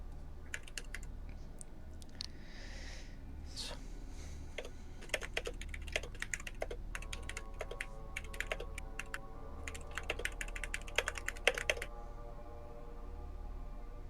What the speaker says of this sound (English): I am typing.